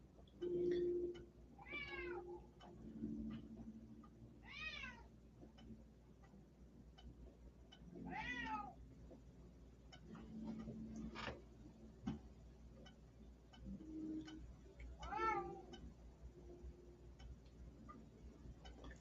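A pet cat meows loudly four or five times at intervals, each call a rising, wavering yowl over a steady low hum and faint ticking, with no talking.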